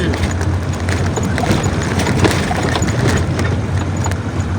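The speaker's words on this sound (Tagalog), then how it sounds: "Kabayo to, mga bade idol!" Horse hooves clop along steadily on pavement amid loud street noise and a low engine-like hum in a Philippine village, a continuous busy outdoor scene.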